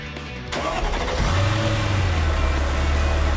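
SLR McLaren supercar engine in Gran Turismo 5, starting up with a sharp onset, then a loud close revving roar building and holding steady.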